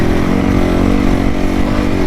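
A dirt bike ridden on sand gives a loud, close engine drone with a steady buzzing putter throughout, with no pause in the throttle and no talk.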